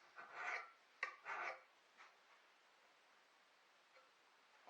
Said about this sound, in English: Might as well sharpen the other ones up.